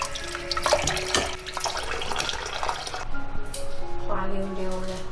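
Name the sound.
washing razor clams under running tap water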